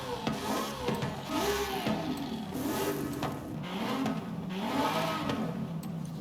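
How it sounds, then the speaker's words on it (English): A 3.5-liter Ferrari V8 engine swapped into a car in Forza Horizon revs repeatedly while drifting, its pitch rising and falling in rapid surges, close and loud with no talk over it. "This is definitely a Ferrari engine, right?"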